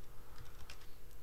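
Quick keystrokes on a computer keyboard while a command is entered in a Linux terminal, a short soft run of close, evenly spaced clicks.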